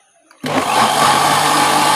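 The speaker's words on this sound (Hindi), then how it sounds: "अब हम इन चनों को ग्राइंड कर लेंगे।" An electric grinder starts up abruptly and runs loud and steady, whirring as it grinds boiled chickpeas, with near silence just before it kicks on.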